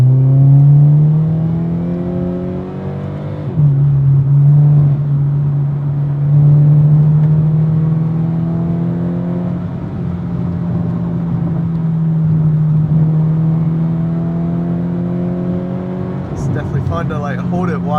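A car engine held at wide open throttle through a corner drones loud and steady. The pitch climbs slowly, dips once at a shift and rises again, with voices faintly under the engine noise.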